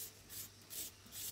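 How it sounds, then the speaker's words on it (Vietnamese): Carrot grated into thin strips on a hand grater, three soft rasping strokes spaced evenly, quiet and close with no talking. "Còn cà gót thì mình dùng bàn bào bào ra những sợi mỏng."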